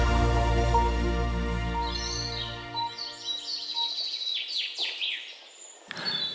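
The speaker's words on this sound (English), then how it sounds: "Sun is rising and birds are singing." Birds chirp and sing in a sunrise scene from the CarX driving game, several bright calls scattered across the clip over a low hum that fades out partway through.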